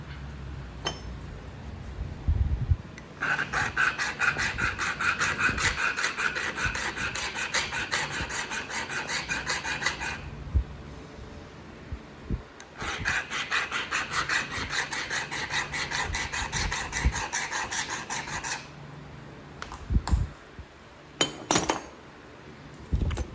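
A flint-knapping tool is sharpened on heated Alabama Coastal Plains chert in two long bursts of steady, gritty rasping. Quieter stretches with occasional sharp clinks and scrapes come before, between and after the rasping.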